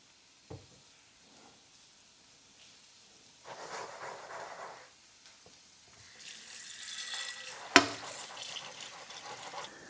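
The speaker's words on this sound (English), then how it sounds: "I'm gonna go ahead and clean this pan right here" Water running from a tap onto a cooking pan being washed in a home kitchen sink, intermittent splashing bursts that grow louder and denser toward the end, with a sharp clatter near the close.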